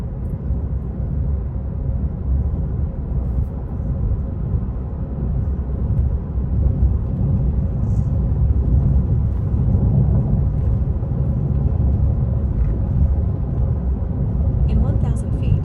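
Tesla Model 3 with HW4 accelerating on a road near 45 mph under Full Self-Driving, a steady low road and motor rumble with tyre noise throughout, loud and continuous.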